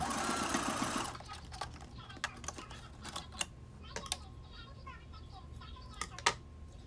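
Sewing machine stitching a closure wig unit, starting with a loud steady whir for about a second, then quieter intermittent clicks and short mechanical bursts.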